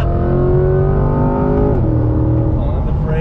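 A 2020 Chevrolet C8 Corvette Z51 pulls hard under full throttle, its engine note rising in a steady, loud harmonic climb, briefly dipping at a shift, then climbing again, heard close from inside the car.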